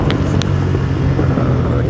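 Loud, close engine roar from a Zongshen 200 Skyline motorcycle pulling in fourth gear, a steady drone with a voice speaking briefly over it.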